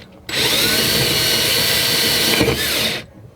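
A power drill bores through a panel during a washer/dryer install in a Grand Design Reflection 312BHTS RV, running loud and steady for about three seconds with a brief dip in speed before stopping.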